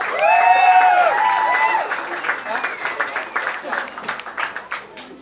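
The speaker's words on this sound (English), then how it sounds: "Please give them a round of applause." An outdoor audience at a One Heart Source and Hogs for Heart charity event, with a Sons of Anarchy cast appearance, breaks into applause and cheering, with a voice rising over it before the clapping thins to scattered claps.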